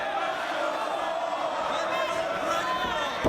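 Wrestling ring in a roaring arena crowd, continuous loud crowd noise with faint thuds of a wrestler stomping on an opponent, ending in a sharp impact.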